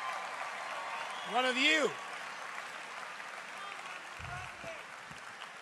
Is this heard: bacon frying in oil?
no